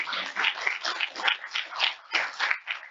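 An audience at a diversity panel discussion claps together, a steady, moderately distant patter of many hands that rises and dips in small waves without stopping.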